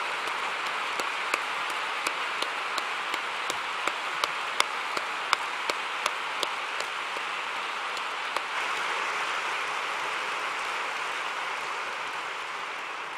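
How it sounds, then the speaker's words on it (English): A sustained wash of audience applause at a faith testimony gathering, steady and even throughout with occasional sharper individual claps standing out near the front, no talking over it. "Please welcome our friends by tributing an applause."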